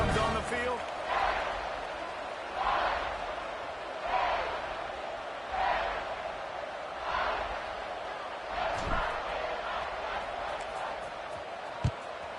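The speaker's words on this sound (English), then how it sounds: "Do you think this crowd's going to get loud when their defense comes on the field?" A stadium crowd at a college football game in the video game NCAA 26: rhythmic swells of crowd noise and chants rising and falling every second or so under a commentator's voice, with one sharp thump near the end.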